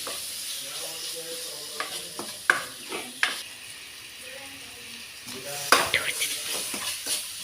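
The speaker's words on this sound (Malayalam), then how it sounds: "ആവശ്യത്തിനുള്ള ഉപ്പും കൂടെ ഇട്ടിട്ട് നന്നായി ഒന്ന് വഴറ്റി ഉടച്ചെടുക്കാം" A large chopped tomato with salt sautéing and being mashed in an oily pan, steady sizzle broken by irregular spoon scrapes and knocks against the pan, loudest in clustered bursts, no voices.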